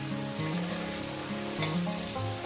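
Paneer pieces fry in a pan with a continuous, loud sizzling hiss close up. A low steady hum of a stove or cooker runs beneath it.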